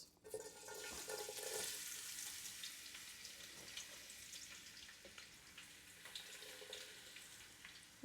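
Chopped onions hit hot oil in a pan for a desi chicken curry, giving a steady bright sizzle with light stirring scrapes throughout, close and constant without any speech.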